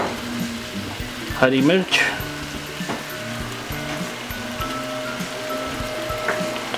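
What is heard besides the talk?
mutton and spinach frying in a pan, tomatoes added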